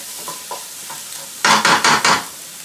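Garlic and shallots fry in hot oil with a soft, quiet sizzle, then four loud, rhythmic stirring scrapes sweep through the pan near the end.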